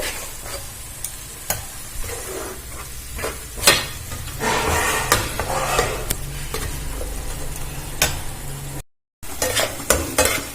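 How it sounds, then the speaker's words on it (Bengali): Tomato paste fried in a pan for a pomfret fish curry, a steady sizzle broken by frequent sharp scrapes and taps of a spatula against the pan, close and without talking, with a brief silent gap near the end. "টমেটোটা ভালো করে ভেজে নেব।"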